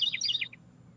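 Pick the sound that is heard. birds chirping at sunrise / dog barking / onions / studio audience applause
birds chirping at sunrise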